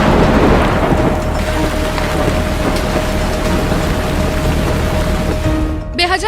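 Heavy unseasonal rain pours in a dense, continuous roar with low thundery rumbling underneath, loud and close throughout, in Gujarat.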